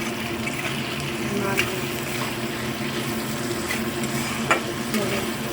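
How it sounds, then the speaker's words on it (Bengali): Cut potatoes fry in a pan with a little salt, making a steady close sizzle with occasional stirring scrapes and clinks, and a voice talks faintly over the sound. "আলুটাকে লাল লাল করে ভাজবো"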